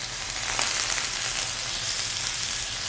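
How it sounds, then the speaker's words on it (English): Pieces of soy-ginger marinated pork and pineapple sizzle and fry loudly in a hot skillet, a steady close crackling hiss running throughout with no voices. "We're going to add these to the skillet. Listen to that sizzle."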